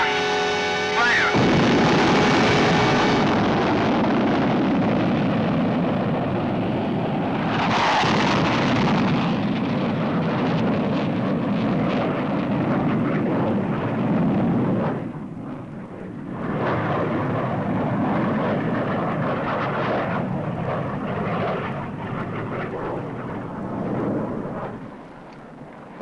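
A rocket booster fires to launch an aircraft, a loud sustained roaring rumble with a sharp surge near the start and another around eight seconds, fading and dipping toward the end.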